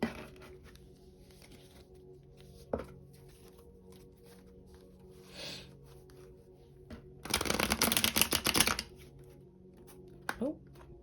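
Tarot cards are shuffled by hand in a quiet room: one dense, fluttering riffle lasting over a second, close by, with a few scattered soft taps around it and a voice speaking intermittently.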